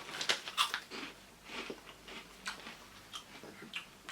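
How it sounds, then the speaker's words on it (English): Crunchy Aldi sea salt and vinegar pea snacks are bitten and chewed close up, a series of sharp, irregular crunches spaced through the clip at fairly low volume with no talking. "Currently sipping a wheat beer and some Aldi pea snacks."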